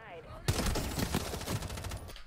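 Automatic weapon fire in the mobile shooter Rainbow Six Mobile, a sudden loud sustained burst of rapid shots starting abruptly and running nearly two seconds before cutting off.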